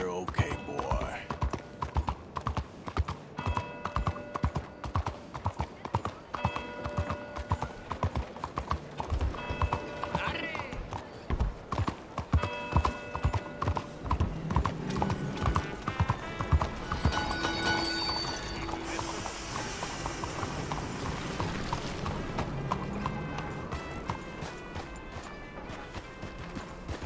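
Horse hooves clip-clop in the western video game Red Dead Redemption 2, a steady trotting rhythm under in-game dialogue, with occasional whinnies and music in the background.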